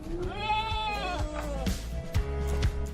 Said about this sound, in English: Herdsmen find new, efficient ways to raise sheep.